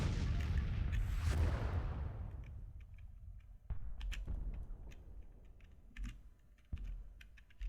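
South Carolina artillery in a Grand Tactician Civil War battle: a loud opening boom and rumble that fades, followed by several sharper distant cannon reports at irregular intervals.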